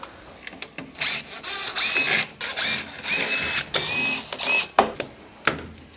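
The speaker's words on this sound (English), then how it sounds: "A Phillips screwdriver." Phillips screwdriver, likely a power driver, removing screws from a passive window: repeated whirring bursts of a motorized driver, close and fairly loud, with short clicks and pauses between screws.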